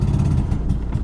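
A Mazda RX-7 FD rotary engine struggling to hold idle after sitting unused for months, a close, loud, low uneven burble with a rough, pulsing throb.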